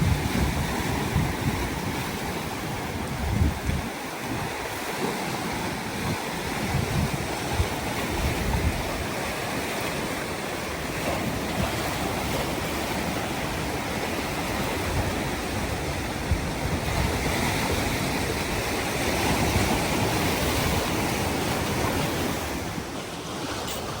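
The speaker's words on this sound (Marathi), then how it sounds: "समोरून लाट येते लाट येऊन गेली" Sea waves breaking and washing continuously over a rocky shore with seaweed-covered stones, a loud, dense roar of surf and surging water with gusty wind noise throughout, no voices.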